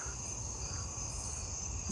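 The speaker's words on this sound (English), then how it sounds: "Lots of jumping bush crickets" Jumping bush crickets call together in a steady outdoor insect chorus, a continuous high buzzing trill over faint low background rumble, with no voices present.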